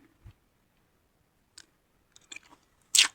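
People eat rice with Northern Thai pork curry, with sparse quiet chewing and small clicks, then a louder crunchy bite near the end, with no talk.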